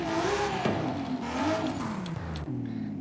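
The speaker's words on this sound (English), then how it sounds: "A racing 3 litre straight 6 turbo." A racing 3 litre straight-six turbo engine in a 2023 Toyota Camry TRD in Forza Horizon 5 revs in several blips, its pitch climbing and falling, before a short drop at the end.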